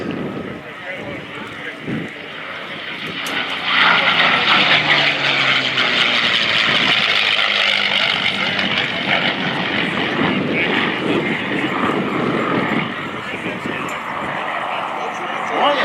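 A P-51 Mustang propeller plane roars past overhead at an airshow in Abbotsford, its engine drone swelling loudly and then easing off gradually as it moves away.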